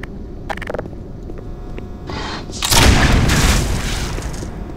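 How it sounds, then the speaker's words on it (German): A large explosion in the shooter game Black Mesa: quiet ambient clatter, then a loud broadband boom around the three-second mark that rolls on and decays slowly through the end. "hab ich dich in die Luft gesprengt, Idiot"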